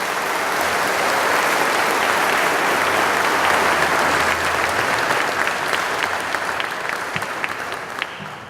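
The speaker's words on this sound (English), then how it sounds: "So give yourself a round of applause." A graduation audience applauds steadily, a dense wash of clapping that holds strong before gradually thinning and tapering toward the end.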